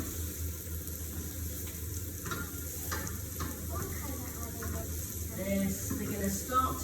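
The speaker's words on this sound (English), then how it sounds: "that's the sizzle we want. The onions are frying." Onions frying in a pan give a soft, continuous sizzle while they are stirred, with faint clinks of a utensil, at a steady low level throughout.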